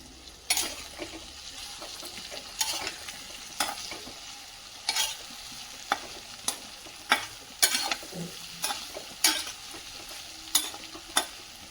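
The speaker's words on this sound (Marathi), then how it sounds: "परतवून पुन्हा एकदा झाकून ठेवते" Sliced bitter gourd is stir-fried in a pan, with a soft continuous sizzle and a dozen or so regular, sharp spatula scrapes against the metal.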